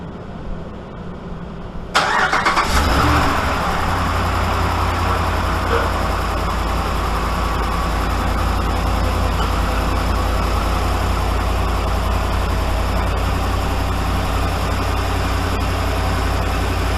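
A 5.7 HEMI V8, just back from an exhaust manifold repair, cranks and catches with a sudden burst, then settles into a steady, deep idle that carries on close by without talk.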